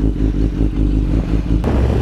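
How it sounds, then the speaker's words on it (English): A BMW S1000RR motorcycle runs steadily with its drive chain rattling over a continuous low engine drone, with a brief sharper clatter near the end. "Listen to that chain rattle."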